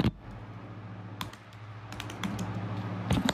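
Rapid clicking keystrokes on a computer keyboard, a quick irregular patter of taps close to the microphone over a low background hum.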